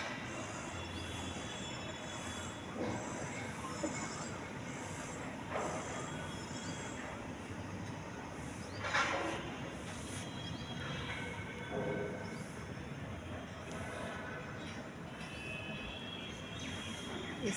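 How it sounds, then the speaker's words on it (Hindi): A metro train arrives, heard from a rooftop terrace as a distant, steady rumble of rail cars with repeated wheel squeals rising over it. "ये देखिए मेट्रो फिर से आ गई।"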